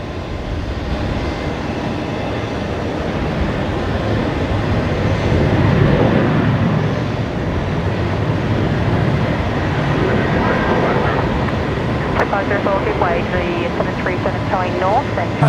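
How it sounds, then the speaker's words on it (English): A Jetstar Airbus A321 touching down at Brisbane Airport at night, a broad steady roar of engines and rolling wheels holding loud through the clip, with voices talking over it and faint tonal whines near the end. "It's just touched down there, the Jetstar."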